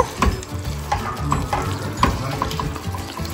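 Chicken curry with curry leaves and mustard simmering in a pan over low heat, stirred with a spoon: a steady sizzle with scraping strokes and soft clinks, with some faint background noise.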